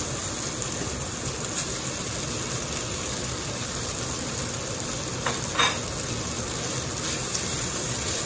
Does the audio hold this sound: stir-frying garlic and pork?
yes